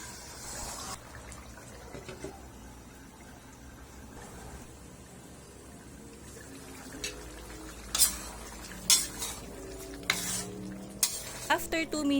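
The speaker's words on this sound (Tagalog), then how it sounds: "Haluin lang natin yan at hayaan muna natin maluto for at least 2 minutes" Pork and pork liver for menudo cook in a pot, with a quiet simmer and sizzle at first, then a run of louder stirring scrapes and clanks toward the end.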